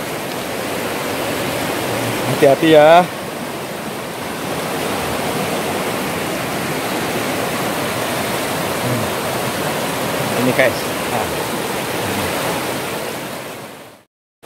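Broad, constant roar of a river rushing near Tumpak Sewu waterfall, loud and close, filling the whole scene with steady noise while a person briefly speaks over it.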